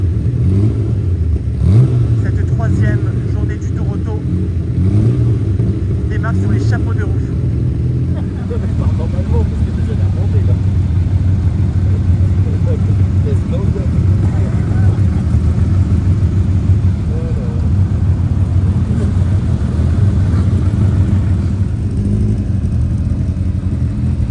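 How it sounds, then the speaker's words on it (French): Loud engines of classic cars, including a Jaguar E-Type, rumble and idle together before a rally stage start, a continuous low mechanical drone with occasional revs, voices talking faintly underneath. "Les moteurs chauffent"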